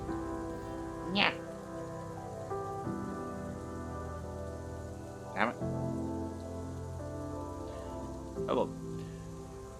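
Steady rain falls in the survival dinosaur game The Isle, a constant hiss under sustained droning game tones, with a person speaking in short bursts.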